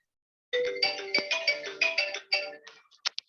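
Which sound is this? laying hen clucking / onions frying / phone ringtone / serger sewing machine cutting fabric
phone ringtone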